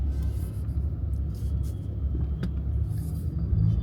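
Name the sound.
road traffic in Pune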